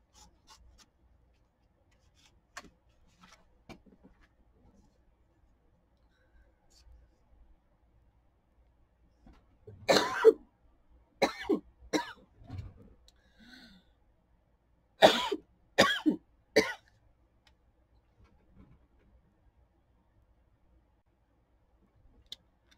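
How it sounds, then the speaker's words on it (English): A person coughs in two clusters of harsh, rapid bursts, close and loud, separated by quiet stretches with faint handling noises. "I'm really having trouble coughing today."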